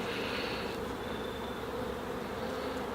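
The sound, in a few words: honeybees in a hive infested with small hive beetles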